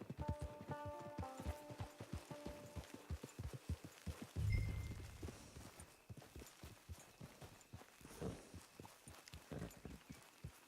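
A horse in the Red Dead Redemption 2 video game walks with steady, distinct hoof clip-clops, close and rhythmic, alongside faint game ambience and a brief low rumble midway.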